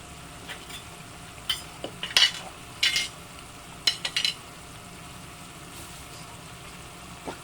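Onion rings frying in a pan while being stirred, with a steady low sizzle and several short scraping bursts from the utensil, close and fairly quiet, no talking.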